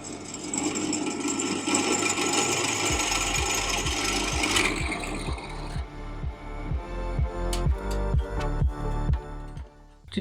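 Power drill boring holes through a steel anti-submarine bracket for a race harness mount, a steady motor whine at first, then a rapid series of sharp rhythmic knocks and bursts up close.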